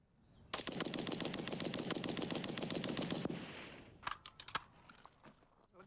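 Sustained burst of rapid automatic machine gun fire from about 160 metres lasting about three seconds, loud and steady, followed by a few scattered sharp cracks and clicks.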